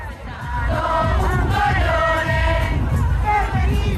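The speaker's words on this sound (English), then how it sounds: "Eyewitness video captured the impassioned crowd chanting and marching through the city streets." A protest crowd against violence toward women marching through city streets in Rome, many voices chanting and yelling together in a loud, sustained, rhythmic roar that carries on throughout.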